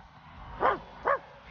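A dog in Marvel's Guardians of the Galaxy video game gives two short, yelping barks about half a second apart, moderately loud over a low, steady game-ambience hum.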